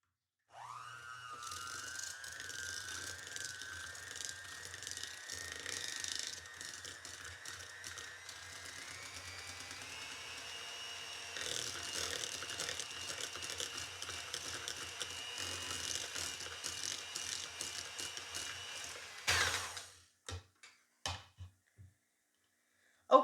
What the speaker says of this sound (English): push your mixer down into the sugar, turn it on low